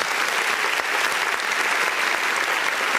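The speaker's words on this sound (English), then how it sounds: "Please give him a round of applause." Steady, dense applause from a large audience at a public talk, continuous clapping at an even level with no pauses, filling the whole stretch.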